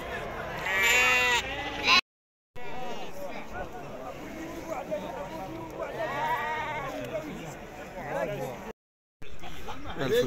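Sheep bleat repeatedly at the Tuesday livestock market in Azrou, Morocco, with loud, close, overlapping cries over a busy crowd and voices talking. Two short breaks cut the sound completely.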